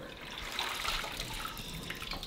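Running water splashes softly while hair is soaked, a continuous faint trickle and slosh like a tap or sink, fairly close and low in level.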